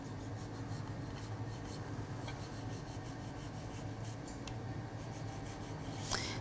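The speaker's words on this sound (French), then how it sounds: "avec le dos du couteau, je viens lisser la gousse, puis je viens la fendre en deux" The back of a knife scrapes along a vanilla pod to smooth it and then splits it in two, a run of soft, close, rasping strokes with a small sharper scrape near the end, no talk.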